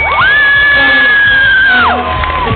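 A crowd at a poetry show in a school hall whooping and cheering loudly, with one long sustained high yell rising over the dense, close crowd noise.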